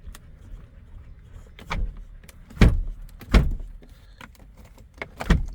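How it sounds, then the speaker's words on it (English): Someone repeatedly pushes a Tesla car door shut but it fails to latch, giving several hollow thumps and knocks at irregular intervals with faint rattling between, close and quiet otherwise. "It won't even latch back shut."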